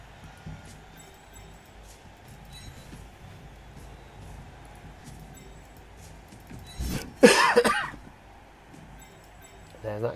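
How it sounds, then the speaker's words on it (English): A single burst of coughing, loud and close, erupts about two-thirds of the way in and follows faint background talk. "There's that cough again"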